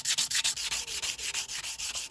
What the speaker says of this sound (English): Sanding all these areas where the paint's really rough and flaking off